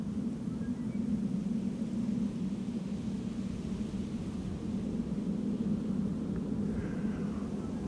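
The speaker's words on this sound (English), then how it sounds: "I am once again hearing the sounds of an airplane passing overhead on cruising altitude" A high-cruising airplane passes overhead near Schiphol as a steady, broad, even roar that holds at a constant level throughout, with no talk.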